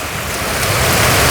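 Heavy morning rain pours down in a steady, dense broadband wash that builds slightly louder over the short stretch, with no voices.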